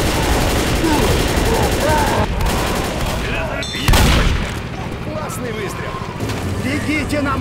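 Rapid gunfire in the video game Left 4 Dead, repeated automatic bursts with a heavy boom near the middle, close and loud under game voices speaking throughout.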